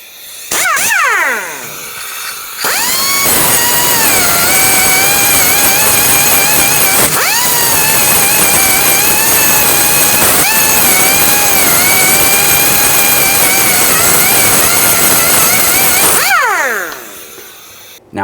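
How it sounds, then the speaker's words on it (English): A small abrasive cutting wheel grinds off rivet heads on a rear shock mount bracket of a 1999-2001 Ford Ranger 2.3L, a loud steady high whine running for about thirteen seconds with brief spin-up and wind-down at each end. "Got our little cutting wheel here."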